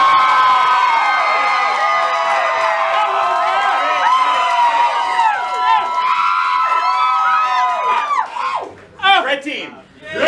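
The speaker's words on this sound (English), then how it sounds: "only clap for the team you want to win" Studio audience at a live comedy show crowd-cheering for the blue team to win immunity, a dense, loud roar of whoops, shouts and clapping sustained for most of the stretch, breaking into scattered bursts at the end.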